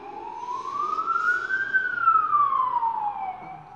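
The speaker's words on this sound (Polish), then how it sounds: "Nie wiem, co to była jakaś karetka, czy nie." Siren of an emergency vehicle in the naval video game World of Warships Legends, a single long tone that rises, peaks and slowly falls, heard clearly at moderate loudness with no talk over it.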